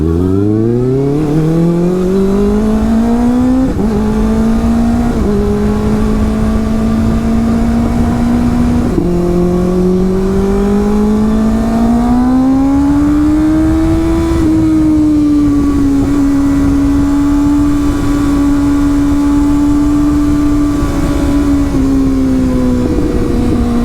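A Kawasaki ZX6R fitted with a LeoVince aftermarket exhaust revs loudly and continuously up close, its pitch climbing and dipping through several throttle blips before settling into a steady high idle, with no talking.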